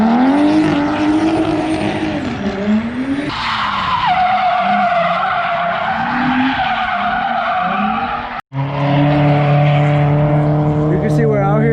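Drift cars on a race track roar loudly with screeching tire squeals and rising and falling engine notes, continuous and close, with a brief cut partway through and talk underneath.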